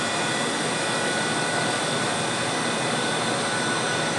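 Constant high-pitched whine of an RC model helicopter's small motor running at full speed, loud and close, with a steady rushing drone and no pauses.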